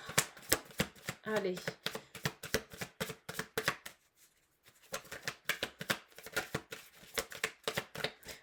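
Tarot-style cards shuffled and handled during a card reading, a rapid run of crisp slaps and riffles with a short pause midway, under someone speaking French.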